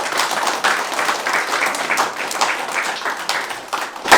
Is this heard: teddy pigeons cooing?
no